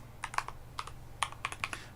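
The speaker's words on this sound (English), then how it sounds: "What am I typing?" Quiet keystrokes on a computer keyboard come in a few short bursts of quick clicks, close by, over a faint low hum with no talking.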